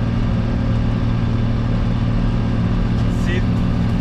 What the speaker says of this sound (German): Der Motor hört sich auch sonst nicht komisch an oder läuft unrund.